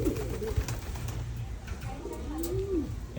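Pigeons coo softly nearby, with a low murmuring coo at the start and another rising coo near the end, over a steady background hum.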